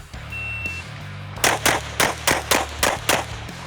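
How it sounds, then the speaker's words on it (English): Pistol shots fired while the shooter steps backward, seven sharp close cracks in a fairly even rapid rhythm over a low background hum. "The shots here were good."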